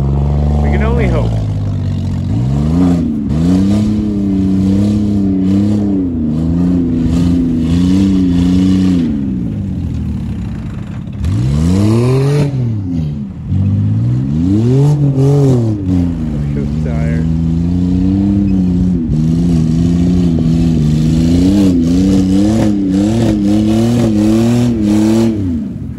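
A 4x4 truck engine revs hard while mudding uphill, its pitch rising and falling in repeated surges over a long stretch, loud and close, with voices talking over it.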